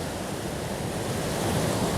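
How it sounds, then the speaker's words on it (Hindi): Loud rushing water from a mountain river on a Himalayan trek near Hampta Pass, a steady, dense roar filling the whole clip with no pauses and no voices. "चिल्ला के इसलिए बात कर रहा हूँ कि नदी का बहुत ज़्यादा शोर है"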